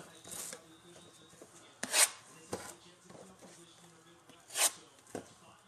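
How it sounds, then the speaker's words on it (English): Sealed 2021 MLB Optic blaster card packs are sliced open at a table, giving a few short, scratchy cutting strokes, with two louder rasping swipes standing out among quiet rustles and handling noises. "let's get these sliced and opened"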